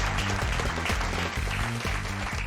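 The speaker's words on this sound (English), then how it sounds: "Now a round of applause to the owner of Jungle Red, the salon that designed today's show, Suzanne." Audience applause at a salon fashion show: steady clapping from a crowd fills the moment, mixed with loud rhythmic pulsing music.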